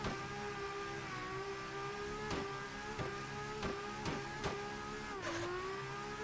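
A drift car's engine drones at a steady high pitch while lapping a track, its tone dipping and rising with several brief shifts and bumps, close and continuous with no talk.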